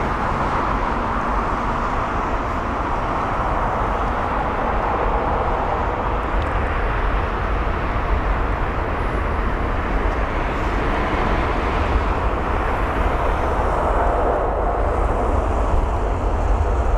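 A Lufthansa airliner in the old livery comes in to land at London Heathrow, its jet engines a steady, broad roar that holds at the same level throughout, with some wind buffeting and no talking.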